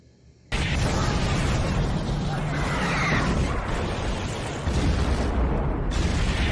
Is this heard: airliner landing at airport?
no